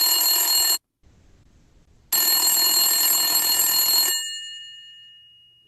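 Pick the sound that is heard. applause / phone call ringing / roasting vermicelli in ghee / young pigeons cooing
phone call ringing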